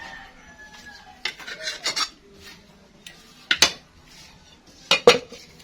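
Dishes and cutlery clatter as home-cooked food is served, several separate bursts of clinking spoons and plates close by, with quiet gaps between.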